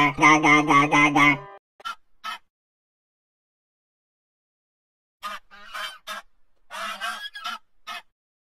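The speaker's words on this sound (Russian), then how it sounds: "Гусь говорит га-га-га." A goose honks: a loud burst of repeated nasal honks, then silence, then a later run of several shorter, clipped honks nearby.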